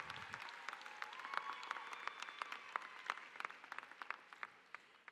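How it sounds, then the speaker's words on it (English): Audience at the Taravella High School 2025 commencement at Nova Southeastern University breaks into sustained applause, a dense wash of many hands clapping that rises, holds steady and then gradually thins out. "Let's clap it up for your biggest fans that are sitting in the stands this evening"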